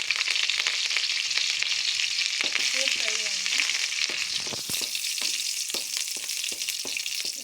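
Steady crackling sizzle of mustard seeds frying in hot oil, with a few sharp pops and a faint stirring scrape.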